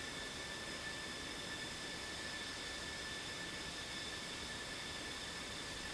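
Jet engines of F/A-18 Hornets in the DCS combat flight simulator, a steady whining roar with a constant high tonal whine over broadband rush, unbroken throughout.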